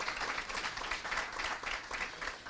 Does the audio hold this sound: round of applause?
yes